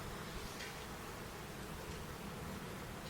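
Honeybees hum around a hive in a steady, dense buzz that holds evenly for about three seconds, fairly faint with a soft rustly background and no talk.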